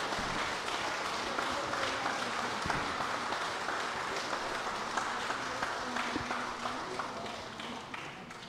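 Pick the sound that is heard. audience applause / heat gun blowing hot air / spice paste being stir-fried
audience applause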